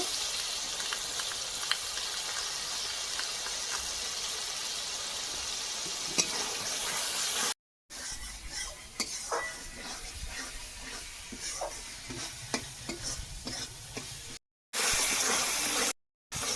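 A spice paste mixed with poppy seed paste fries in a pan for a puti fish poppy seed curry, giving a continuous close sizzle broken by frequent scraping stir strokes, with brief gaps of silence and no talking.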